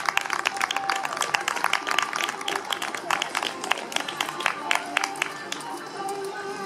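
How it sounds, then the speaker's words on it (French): Audience at an equestrian club prize-giving claps for winning rider Jade Wagner, a steady patter of many hands ringing out close by, with an announcer talking over it. "On peut l'applaudir bien fort à Jade"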